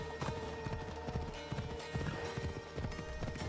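Horse hooves clip-clop steadily in Assassin's Creed Odyssey, a brisk repeating rhythm of close, crisp strikes over a low ambient game backdrop.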